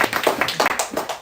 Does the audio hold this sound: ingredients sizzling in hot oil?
no